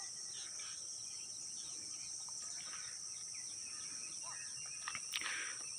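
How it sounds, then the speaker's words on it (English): Birds and insects calling outdoors in nature on a morning, a steady high insect-like trill running throughout with scattered faint chirps and a brief louder call near the end. "Birds noise, birds chirping out here."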